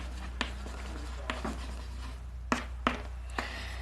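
A teacher writes on the classroom board during a maths lesson on divisibility, producing five or six short, sharp tapping strokes scattered irregularly across the clip over a quiet room hum.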